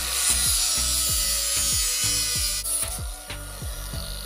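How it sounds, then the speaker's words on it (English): A Dremel oscillating multi-tool cuts through an alligator gar, a loud, steady buzzing rasp with rhythmic pulses as the blade works back and forth, close up and without talk. "This tool is called a Dremel, or an oscillating multi-tool."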